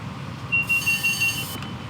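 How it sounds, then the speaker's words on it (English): A continuous alarm tone sounds in a test locomotive's cab on a run from Crewe to Preston, with a bright bell-like chime pulsing on top in a steady repeating pattern for about a second, over the low rumble of the moving train. "The DSD alarm came on at the same time as the bell for the AWS magnet."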